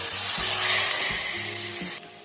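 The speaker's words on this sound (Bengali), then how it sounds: "এখন এর মধ্যে দিয়ে দেবো বেটে রাখা মোচাগুলো।" Mashed banana flower added to a pan of hot oil with fried chilies sizzles steadily, a continuous close frying hiss that fades slightly at the end, with no voices.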